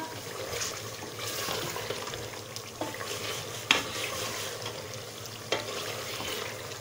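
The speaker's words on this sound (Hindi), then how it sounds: "ऑयल के अंदर भुनाई करनी है" Mutton for Peshawari namkeen gosht sizzles and fries in oil in a pot, a steady low crackle broken by occasional stirring clinks, fairly quiet and close.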